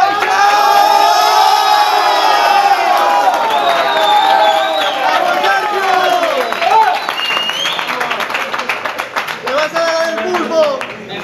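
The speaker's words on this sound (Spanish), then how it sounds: "¡Aplausos!" A crowd cheers and claps for the reigning Spanish middleweight boxing champion at a weigh-in, with loud whoops and shouts over dense clapping and voices calling out.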